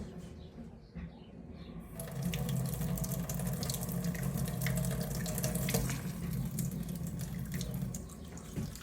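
Tap water gushes into a pot while blackberries are being prepared for canning. After a quiet start it turns on sharply and runs steadily at close range for the rest of the clip.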